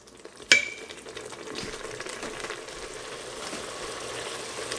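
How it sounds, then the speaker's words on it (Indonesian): Spice paste frying for a vegan chayote curry gives a sharp clatter at first, then settles into a soft, steady sizzle and stirring that build slightly, with no talk. "Digoreng terus sampai harum ya."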